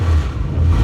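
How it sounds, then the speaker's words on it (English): A Chrysler Valiant VG with its 245 engine revs under throttle pumps, giving a loud, close, continuous engine roar that swells and dips over a single short burst. "I'll give it a few pumps of the throttle"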